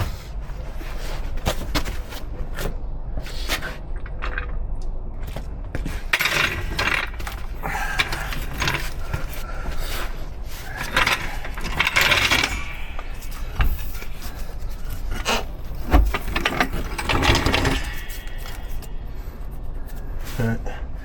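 A jack is worked under a Nissan Micra off-roader to hold up the suspension knuckle, giving intermittent ratcheting clicks and metallic clunks close by, with a voice talking over parts of it.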